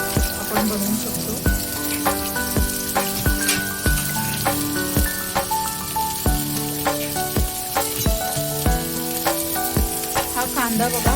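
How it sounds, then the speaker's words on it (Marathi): Chopped onion frying in hot oil in a pressure cooker, a steady close sizzle with scattered crackles and spatters running throughout, joined by repeated clinks and scrapes of stirring. "तर आता आपण इथे सगळ्यात अगोदर कांदा भाजून घेणार आहे"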